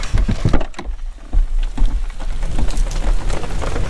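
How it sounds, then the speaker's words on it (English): Heavy rain drums on a campsite during a thunderstorm, a loud, dense patter with irregular heavier splats and low rumbling underneath, continuous and close, with no voices. "Well, that's quite a bit of rain."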